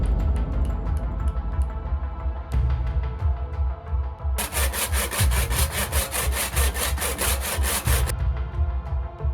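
Close, loud back-and-forth sawing of granite with a steady rhythm, strokes speeding into a harsh rapid grind midway before easing back.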